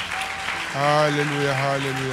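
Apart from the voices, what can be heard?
congregation applauding for the Lord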